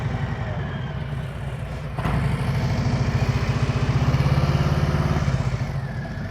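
A motorcycle rolls at slow speed during a riding practice session while the clutch is let out: a steady, close engine chug with a slight lift partway through, alone and without talk.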